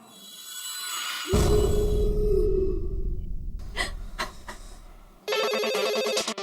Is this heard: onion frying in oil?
no